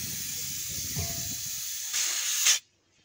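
Air hisses steadily out of an air conditioner system being emptied for a 1.5 ton compressor replacement, swelling louder for a moment before cutting off abruptly.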